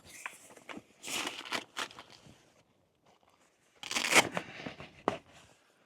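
A zipper on the tent of a SNO Trailers Remington R-20 expedition trailer is pulled in two separate rasping bursts, close and fairly quiet, with a pause between them.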